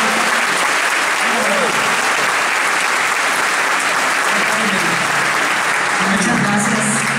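Audience applause welcomes a singer onto a stage, a loud, dense wash of clapping that holds steady from start to finish.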